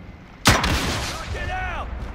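A single loud rocket launch or blast in the Call of Duty video game, a sharp broadband burst that decays into a rumbling tail, with a brief whistling tone afterward.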